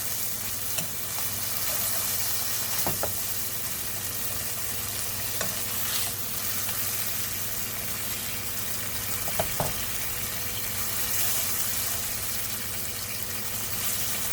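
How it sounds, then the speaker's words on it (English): Pad Thai noodles fry and hiss in a pan while water is poured in and stirred, a steady close sizzle broken by a few clinks and scrapes, with no talking. "So put the water in here,"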